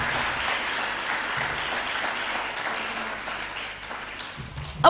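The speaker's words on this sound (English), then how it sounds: "Please applaud the success of our teachers." A large audience applauds steadily at a school speech day and prize-giving ceremony, a dense wash of many hands clapping that holds for about five seconds at fairly even loudness.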